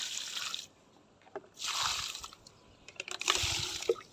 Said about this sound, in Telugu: 1 లీటర్ సరిపడా మనం వాటర్ని ఇద్దాము